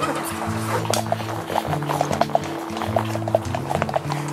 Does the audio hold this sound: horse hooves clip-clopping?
yes